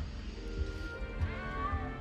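A frightened little cat meows in Hogwarts Legacy, a few soft, faint mews over low background game ambience with no talking.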